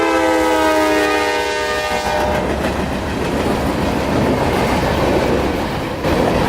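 Freight train Q452 heading north, sounding a loud sustained multi-tone horn for about two seconds, then rumbling and clattering past close by as a dense, continuous roar of wheels and cars.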